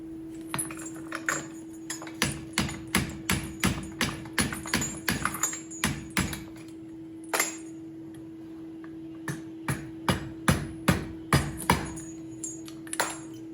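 A hammer strikes a chain link on a stake anvil in sharp metallic blows, clear and close. The blows come in rapid, regular runs with a brief pause partway through, over a constant ringing tone.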